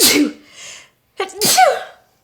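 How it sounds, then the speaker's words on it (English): A sharp, loud sneeze with a quick inhale before it, followed by a short second burst, close to the microphone. "hold on, I'm gonna sneeze"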